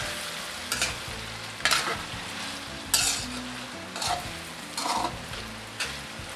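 Vegetables sautéing in a pan for a pinakbet-style Filipino dish, with a continuous close sizzle and a handful of evenly spaced scraping stirs roughly every second, no voices.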